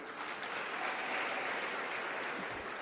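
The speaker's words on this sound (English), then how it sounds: "she really deserves a round of applause" An audience at a youth health conference session applauds in a steady, even wash of clapping that lasts the full few seconds, moderately distant and without speech.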